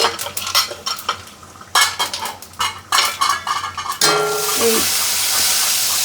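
Dry chili, fennel, cumin, fenugreek and radhuni seeds go into a pan for a brown top millet khichuri tempering: a run of close metallic clatters and stirring scrapes, then a steady, loud sizzle of frying spices.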